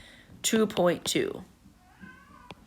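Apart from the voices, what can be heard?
cat meowing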